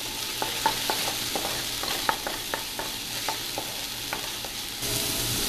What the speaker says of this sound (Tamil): இப்போ இஞ்சி பூண்டு பேஸ்ட் ஃபர்ஸ்ட் போட்டுட்டு அதுக்கப்புறம் அதை நல்லா நீங்கள் வதக்குங்க